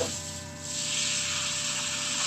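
Seafood broth hits a hot pan with garlic, making a close, steady steaming hiss that swells and stays strong for a couple of seconds.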